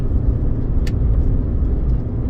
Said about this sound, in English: Car coming.